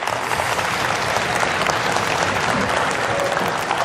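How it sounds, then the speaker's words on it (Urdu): Sustained audience applause fills the room at a business motivational talk, dense steady clapping from a large crowd, loud and continuous without a break. "تالیاں بے شک بجاتے رہیں, خود ہی ختم ہو جائیں گی"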